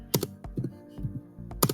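Typing on a computer keyboard, a quick run of close, crisp key clicks in uneven bursts.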